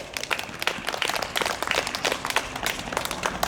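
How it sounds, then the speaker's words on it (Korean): A church congregation at a national prayer meeting in Korea bursts into dense, steady applause, the many hands clapping evenly and fairly close, with no voices above it. "그 하나님께 영광의 박수 올려드립시다"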